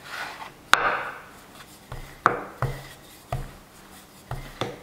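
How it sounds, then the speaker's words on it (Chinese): Rolling pin working a flattened round of dough for layered home-style flatbread: a series of sharp wooden knocks and dull rubbing strokes in an irregular rhythm, close and fairly quiet, with no voices. "取过醒好的面剂，直接按压扁，擀成圆形大饼状，从中间往上下两边擀开"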